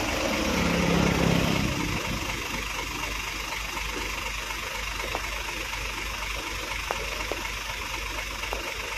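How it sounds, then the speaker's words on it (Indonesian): A boat engine idles steadily in the background near a river bridge, a constant low rumbling hum with a few faint clicks, after a louder burst at the start. "Nah ini kapalnya udah mau jalan."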